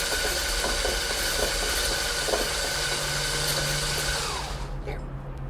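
Egg yolks being mixed for a Tom and Jerry cocktail batter, a steady continuous whir like an electric mixer running loud and close for several seconds, then cutting off near the end.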